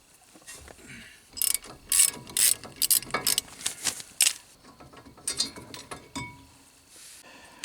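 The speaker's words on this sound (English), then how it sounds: "I'm going to use a breaker bar to get them started, and then I'll use the ratchet to walk them off" A ratchet spins loose the 18mm brake bolts on a 2004 Ford F-150 (2WD), giving rapid clicking pawl bursts in irregular close runs with metallic clinks between.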